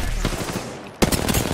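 Rapid automatic gunfire in a shooter video game, a close rattling burst that pauses briefly and then resumes louder and denser.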